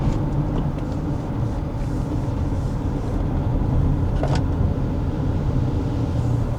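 A Jaecoo 7 SHS hybrid SUV drives along a winding road, a steady loud rumble of tires and engine filling the interior with no speech over it, and a brief faint tap about two-thirds through.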